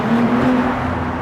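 A B9 Audi SQ5 with its exhaust resonator deleted gives a brief, steady, loud droning exhaust note under way.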